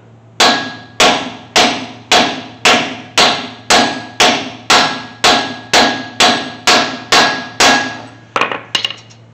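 Steady hammer taps drive a bearing into its seat on a 1979 Chevy C10 truck, about fourteen even, loud metallic strikes spaced roughly half a second apart, each ringing briefly, ending with a few quicker lighter knocks.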